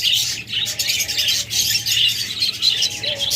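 A flock of pet budgerigars, cockatiels and lovebirds chirps and tweets continuously, a dense, loud, overlapping chatter of high calls with no pauses and no voices.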